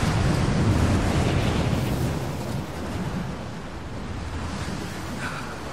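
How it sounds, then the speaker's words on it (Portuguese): Strong wind roaring in the Rise of the Tomb Raider video game on a mountainside climb, a loud, steady broadband gust that eases slightly midway and continues without a break, with no talking. "Esse vento é absurdo."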